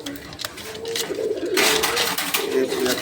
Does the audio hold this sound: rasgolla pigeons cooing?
yes